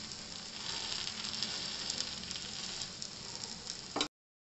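Uttapam made from MTR dosa ready mix sizzles steadily on a hot pan, a continuous close frying hiss with no talk.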